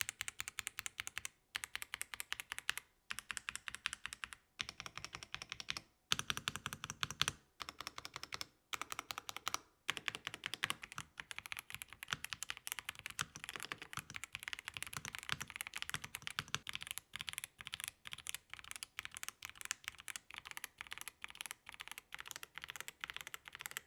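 Continuous typing on a budget mechanical gaming keyboard, close and crisp, a rapid stream of clacking keystrokes broken by brief pauses early on, then running almost unbroken, with no talking.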